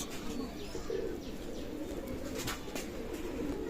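Pigeons coo softly and steadily in a busy loft in Daulatpur, Khulna, Bangladesh, with a constant low murmur of birds and faint chirps over continuous background noise.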